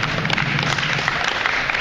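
Audience applause at a tennis coaching conference session, a steady wash of clapping that runs unbroken through the whole moment at moderate level.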